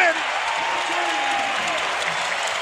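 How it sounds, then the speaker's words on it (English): An arena crowd in the NBA 2K18 basketball game swells in a broad, sustained roar with scattered clapping, loud and steady throughout. "You could hear the crowd ooh and ah"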